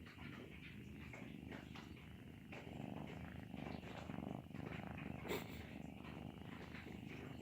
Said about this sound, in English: Who would have thought you'd get swarmed by cats?